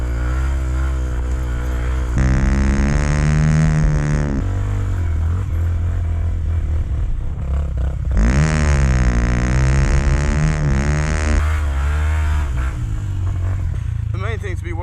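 A 125cc enduro motorcycle ridden through wet woods: the engine revs up and down in repeated rising and falling bursts, loud and close, with a voice speaking over it at times.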